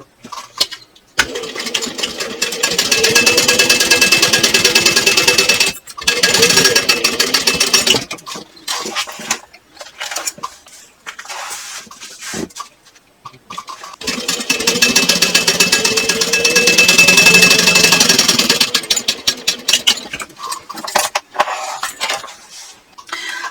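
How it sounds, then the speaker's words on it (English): A sewing machine topstitches across a clutch panel at a 1/8 inch seam, with two long, steady, loud runs of rapid needle chatter separated by shorter stop-start bursts and brief pauses. "now I want to top stitch across here and across here using a 1/8 inch seam"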